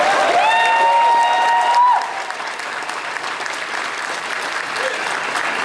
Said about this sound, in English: let's give a big round of applause to the entire panel.